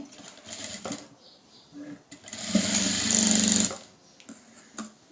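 A sewing machine runs briefly while stitching a blouse, a short loud burst of fast rattling in the middle, with quieter handling noises around it.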